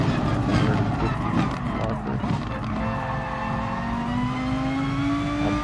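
A race car engine in GT Sport held at full throttle, a loud, continuous roar that climbs steadily in pitch as the car accelerates onto a straight.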